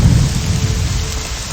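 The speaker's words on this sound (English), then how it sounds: "Nice and raining like it always is." In the town of Balmora in the video game Morrowind, steady heavy rain pours down with a deep rumbling wash beneath, loud and close, with no voices.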